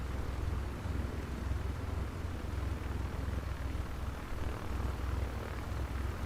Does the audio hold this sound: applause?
no